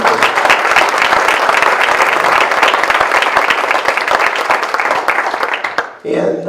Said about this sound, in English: I would especially like to have the audience give Kim a round of applause for all her hard